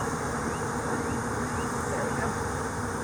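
Honey bees swarm around a smoked hive, a dense, continuous buzzing hum that stays close and steady throughout, with no pauses.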